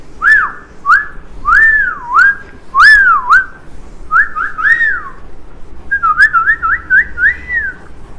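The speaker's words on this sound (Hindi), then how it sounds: "क्या सर सीटी बजाते रहते हो दिन भर यार" A person whistles a string of looping, swooping tonal phrases, loud and close, with short pauses between them and a quicker trill of notes near the end, in a classroom setting.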